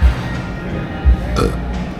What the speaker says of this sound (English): don't be burping in a establishment like this